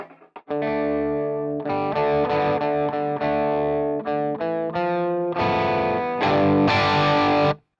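An electric guitar played through heavy overdrive distortion, loud and close, with sustained chords and single notes in uneven bursts over several seconds. It plays alone with no talking.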